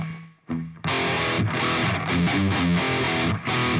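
Heavily distorted electric guitar playing the palm-muted verse riff of a song, chugging low notes in a tight repeating rhythm after a brief lead-in; loud, close and alone with no voice.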